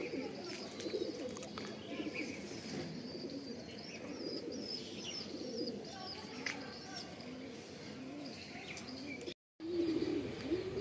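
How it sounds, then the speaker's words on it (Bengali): Pigeons coo softly at a rooftop loft, low repeated throaty calls with some chirps and wing flutters nearby, while someone talks quietly over them and a brief gap breaks the sound near the end. "এই যে পায়রা উপরে চলছে, পায়রা উপরে দৌড়াচ্ছে।"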